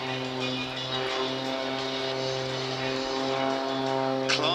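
An aerobatic display aircraft at the Clacton airshow, heard as a steady, tonal engine drone at moderate distance, sustained throughout with a slight rise in level near the end.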